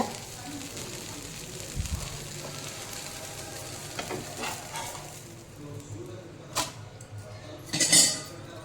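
A thin jowar-flour rava dosa sizzles softly on a hot pan, a steady low frying hiss broken by a few scraping and clinking utensil sounds.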